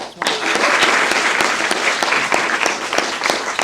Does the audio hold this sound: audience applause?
yes